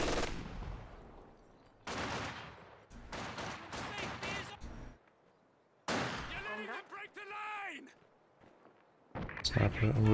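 Gunfire in the Company of Heroes 2 video game, where a sniper fires on a machine-gun position amid bursts of shots and battle noise that come and go, with a voice speaking between them.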